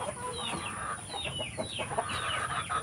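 Native breeder chickens on a rural farm clucking, several birds overlapping in a busy flock chatter of short repeated calls, close and continuous, with no talk.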